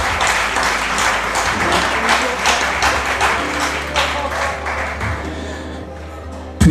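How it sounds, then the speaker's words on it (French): Sustained applause from a crowd, steady dense clapping that carries on for several seconds before thinning slightly toward the end. "ça mérite quelques applaudissements"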